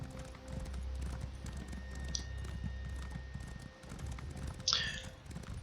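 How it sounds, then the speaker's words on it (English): A horse sprinting under its rider in Elder Scrolls Online gives a steady, rapid clip-clop of hooves at moderate volume, rolling on continuously over a low background hum, with a couple of brighter clinks near the end. "When you're sprinting with your horse"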